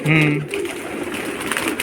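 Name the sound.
pigeons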